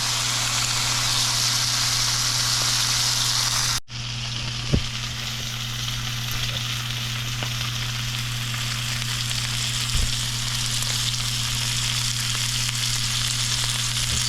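A jerk pork loin sears in a hot pan with a steady, even sizzle and hiss, broken by one brief cut and a couple of faint taps; no voices.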